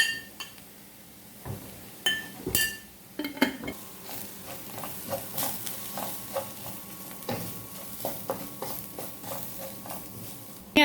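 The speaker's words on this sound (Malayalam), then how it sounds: "ഇനി ഇത് നന്നായിട്ടൊന്ന് മൂപ്പിക്കാം." A spoon stirs and scrapes spice masala with coriander powder as it roasts in a pan for curry puff filling, with repeated metallic clinks and a soft sizzle running steadily throughout.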